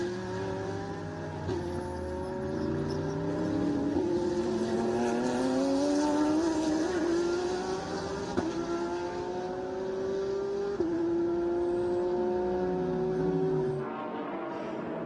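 Ferrari 488 GT3 race cars roar around the Circuit of the Americas during a GT race, high engine notes rising steadily through repeated upshifts, a continuous loud drone that fades out near the end.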